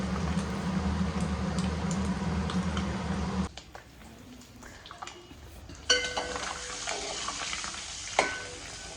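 Eggs frying with chilli powder in a pan, a soft steady sizzle that drops away midway, then resumes with scattered scrapes and clinks of stirring.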